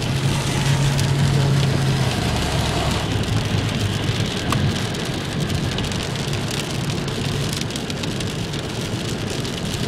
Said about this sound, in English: The rain is starting to come in a little harder now.